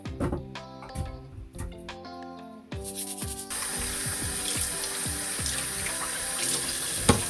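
Fresh fruit is rinsed and rubbed under a running kitchen tap, with clunks and knocks against the sink at first. Then the water turns on into a steady, loud, continuous stream with splashing and the rustle of hands rubbing the fruit.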